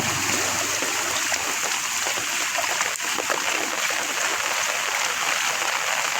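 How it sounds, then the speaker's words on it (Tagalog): Stormwater runoff cascading like a waterfall beside a bridge in the provinces during a typhoon, a loud, steady broadband rush and splash of pouring water. "kung saan-saang dumadaloy ang tubig. At ito ay nagmimistulang falls"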